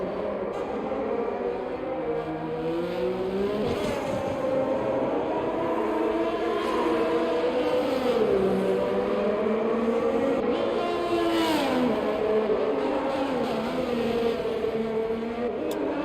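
A race car in a racing video game on the Monaco street circuit sweeps into the final braking zone of the lap, its engine note rising and falling steadily as it sheds speed, loud and continuous for the whole stretch.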